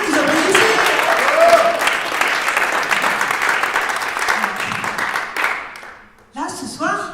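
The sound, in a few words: theatre audience applauding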